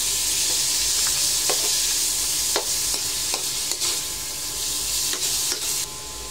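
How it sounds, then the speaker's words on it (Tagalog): Ground meat sautéing with onion and garlic in a pan, a continuous loud sizzle broken by sharp clicks and scrapes of a spatula; no talking. "Igisa po natin ng maigi ang giniling"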